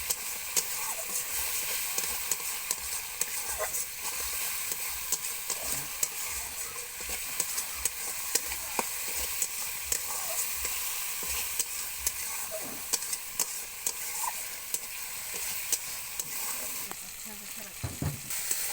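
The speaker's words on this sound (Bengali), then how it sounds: "এরপর দিয়ে দেবো কয়েকটা চিংড়ি মাছ। চিংড়ি মাছগুলো দিয়ে কিছুক্ষণ মশলাতে কষিয়ে নিতে হবে।" Prawns fry in spice paste for a Bengali pumpkin and vine-spinach ghonto, a quiet, continuous sizzle broken by repeated scrapes and clinks of a spatula stirring in the pan.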